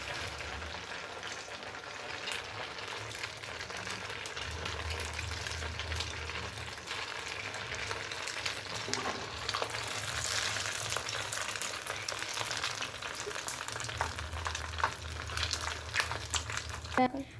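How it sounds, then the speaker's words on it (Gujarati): Snack dough frying in hot oil for an instant snack, a continuous close crackling sizzle that swells and bubbles more busily toward the end, with occasional soft knocks. "તેલ આવી ગયું છે હવે તેને આપણે તળી લઈશું"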